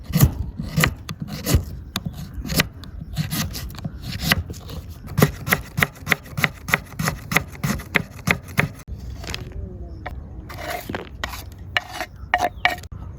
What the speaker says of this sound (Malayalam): നമ്മൾ നേരത്തെ ക്യാബേജ് കട്ട് ചെയ്ത അതേ സൈസ് തന്നെ ക്യാരറ്റും കട്ട് ചെയ്യാം